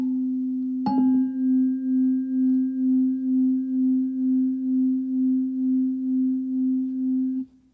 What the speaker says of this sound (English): Now I'm going to load the prong of one of these with a load